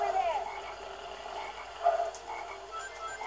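Frogs croak in a forest level of the video game Sonic Heroes, faint warbling calls repeating over a busy game-music and ambience bed, with one brief louder blip midway.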